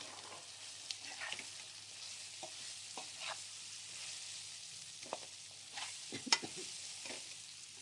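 Gatta (gram-flour dumplings) frying with green chilies and ginger in a pan for sweet rice: a quiet, steady sizzle broken by scattered scrapes and taps of stirring.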